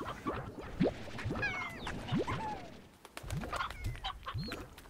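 Rooster and chickens in the game Slime Rancher, with several short clucks and squawks scattered through a busy stretch of game sounds, fairly faint, plus brief wing-flap bursts.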